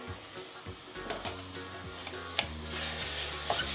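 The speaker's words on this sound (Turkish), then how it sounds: "Şimdi ben bunun bulgurunu ekliyorum artık." Bulgur stirred into sizzling beetroot, carrot and turmeric in a pan: steady close frying sizzle with scraping spoon strokes and occasional clinks.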